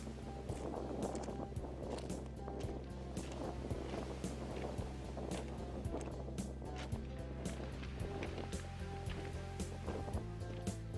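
A stormy winter sea seen from a coastal embankment gives a steady, fairly faint broadband roar of wind and breaking waves, continuous with no pauses and no voices.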